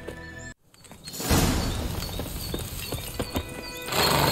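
Hooves of Geralt's horse Roach in The Witcher 3 clip-clop steadily on the ground, joined by neighing and whinnying, after a brief silent gap at the start.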